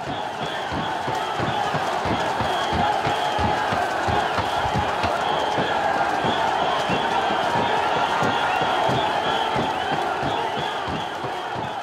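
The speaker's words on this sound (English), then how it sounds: "a festival atmosphere that has its excitement built by the cheering spectators" Spectators cheer at a snake boat race on the Punnamada backwater in Alappuzha, a steady dense crowd roar with scattered shouts and clapping that holds at full strength for the whole stretch.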